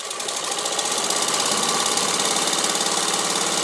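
A Singer 15-75 sewing machine runs fast at a fine stitch length, giving a loud, steady, rapid mechanical clatter with an even rhythm throughout and no voices.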